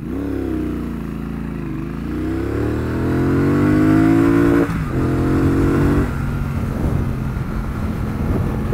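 A Triumph Bonneville Bobber 1200 motorcycle engine runs at high RPM while riding, its loud, close, rumbling drone rising and falling in pitch as the rider accelerates and shifts, with steady wind noise.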